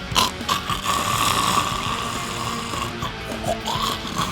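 A voice imitates a friend's loud, rumbling snoring, with a continuous guttural rasp carried for several seconds, close and steady with slight pulsing.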